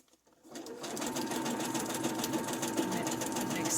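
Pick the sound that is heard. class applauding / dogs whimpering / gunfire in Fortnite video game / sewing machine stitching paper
sewing machine stitching paper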